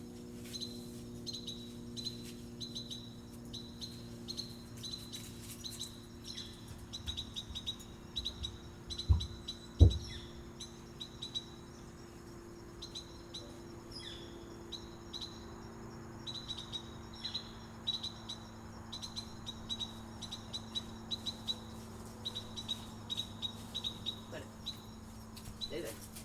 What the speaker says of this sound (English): There's a bird that's making a sound like the baby fell out of the nest